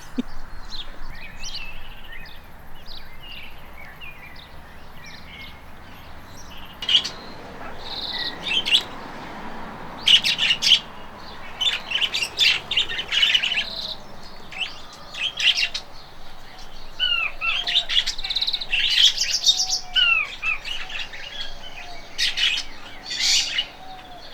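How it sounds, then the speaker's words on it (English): Many birds in crowded garden aviaries chirp, tweet and squawk in overlapping bursts, some calls close and loud, others further off, with no voices. "We've obviously got some bird aviaries here at the gardens as well, but a lot of birds in one small cage really."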